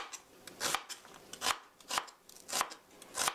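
A knife slices an onion into thin 0.3 cm pieces on a cutting board, giving a steady rhythm of crisp, close cuts about every half second with no talking.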